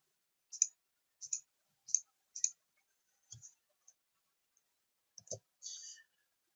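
Computer mouse clicks while working in bridge modelling software, crisp, close, isolated clicks, four evenly spaced at first, then a few scattered ones with faint handling noise.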